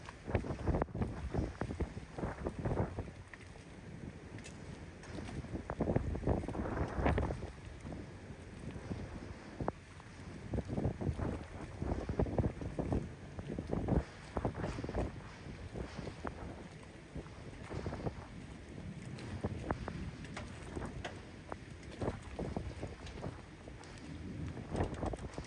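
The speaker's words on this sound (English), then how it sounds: "This is a lot of wind." Steady, heavy storm wind at a boat dock buffets the microphone for the whole stretch, with gusty surges over a low rumble and splashy water-like noise.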